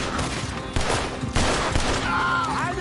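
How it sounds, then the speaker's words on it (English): Loud gunfire in a Red Dead Redemption 2 town shootout, several close shots and rapid volleys layered over dense game noise, with no voices heard. "Well, shoot them then."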